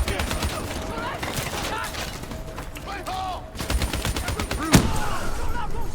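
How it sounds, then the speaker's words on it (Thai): Rapid automatic gunfire from a weapon in the video game Call of Duty Black Ops 3, dense repeated bursts running through the whole stretch with one sharper report near the end, under faint overlapping game voices. "ปืนแม่งปักแป๊กอะ"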